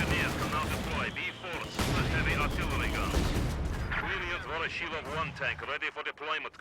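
A captured MG42 machine gun fires in a WWII strategy video game amid a half-track assault. The bursts and the wider battle gunfire stay dense and continuous, partly buried under a steady stream of excited commentary.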